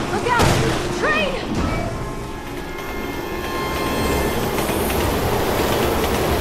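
A train rushes past in the Resident Evil 6 video game, a loud rumbling pass with squealing wheels and metallic clatter that swells and holds, while someone talks over it.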